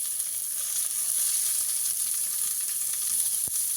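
Onions frying in hot oil with mustard seeds and green chillies give a steady, bright hiss close by, with one faint clink near the end and no voices.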